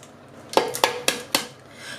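Three eggs cracked into a bowl for pancake rolls, heard as four sharp close taps and cracks spaced about a quarter second apart, with a faint hard clatter and no talking.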